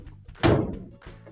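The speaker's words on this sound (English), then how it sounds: "Now we can close our dryer door." A GE dryer door swings shut with a single solid thunk, close and fairly loud, with a short decaying rattle of the panel afterward.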